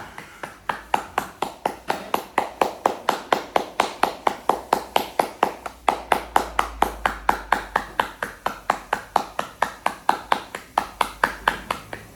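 Single hand claps land in a steady, even rhythm during a yoga breathwork exercise, each one sharp and close, roughly four per second for the whole stretch, with no talking.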